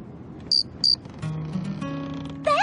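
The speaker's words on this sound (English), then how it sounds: "Singing cricket? Does he take requests?" A cartoon cricket chirps in short bright bursts, two quick chirps followed by a rising musical trill and a warbling flourish, over a soft animated-show background.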